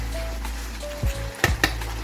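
Beef and onion stir-frying in a hot pan, a steady soft sizzle running throughout with a few sharp clanks of a utensil against the pan near the end.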